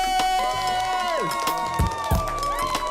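A studio crowd cheers and whoops during a comedy podcast recording, loud and continuous, with a couple of heavier bursts partway through and ringing, tonal shouts over the top.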